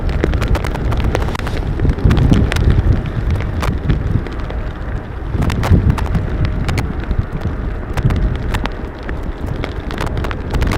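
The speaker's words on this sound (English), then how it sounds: "It has begun to rain again." Steady rain hisses continuously at Amsterdam Schiphol Airport, with scattered sharper patters and gusty wind rumble throughout; no voices.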